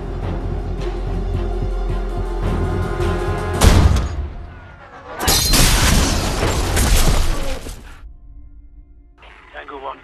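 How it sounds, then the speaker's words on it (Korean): A sniper rifle fires in a mercenary film scene. A sudden loud boom is followed by a long, broad blast and rumble, set within dense film soundtrack with people talking. "대기하던 그에게 저격 명령이 내려지고 저격을 실행합니다"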